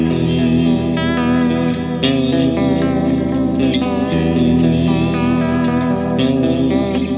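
Electric guitar played through a clean NAM amp-model preset on a NUX MG-30 multi-effects unit, sounding as continuous, loud sustained chords and notes with reverb and echo, with distinct strums near two, four and six seconds and no talking.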